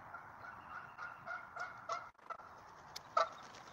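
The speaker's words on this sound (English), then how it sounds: "that was two ducks" Two ducks honk in short, scattered calls over a faint, steady background, the last pair of honks loudest and closest.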